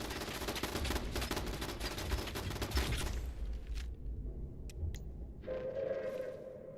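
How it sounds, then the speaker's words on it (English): Rapid turret gunfire in Fallout 76, a dense stream of fast automatic shots for about three seconds, followed by scattered faint pops and a higher tonal hum from the game. "I heard two turrets."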